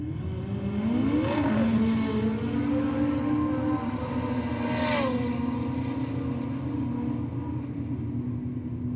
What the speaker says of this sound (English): Got the Datsun taking on the Falcon.